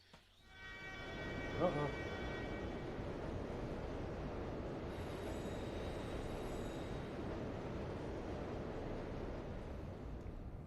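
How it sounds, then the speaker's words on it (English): A train rushes past in the N64 game Hybrid Heaven, a loud steady roar with a horn blast near the start and a brief voice exclaiming over it. "Almost got taken out by a train."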